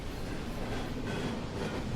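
Train rolling on rails in an audio drama, a dense continuous rumble with rattling texture, steady and fairly loud throughout the short stretch.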